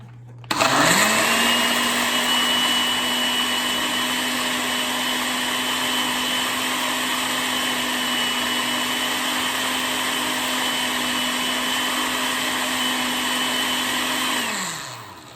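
A countertop juicer spins up and whirs at a steady high-pitched drone while juicing cucumber, running loud and constant for about fourteen seconds before winding down, with no talk over it.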